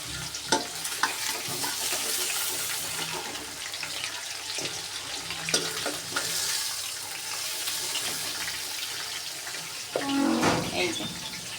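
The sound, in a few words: meat frying for biryani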